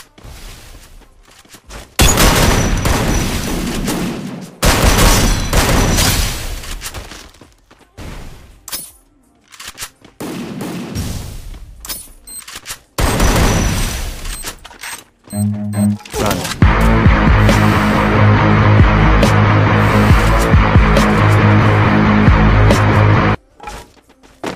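Gunfire in the Free Fire battle royale game, bursts of rapid shots in several volleys separated by short pauses, loud and close, followed by a long stretch of denser continuous in-game sound, with no talking.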